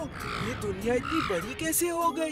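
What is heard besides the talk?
cartoon crow cawing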